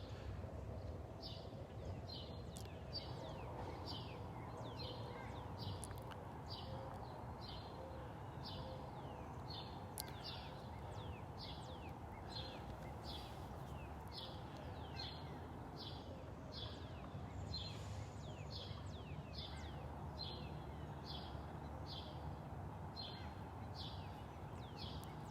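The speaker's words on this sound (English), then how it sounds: "Listen to the birds." Faint, repeated high chirps from birds calling in a steady rhythm outdoors on a morning in North Naples, Florida, over a soft wash of wind and distant background rumble.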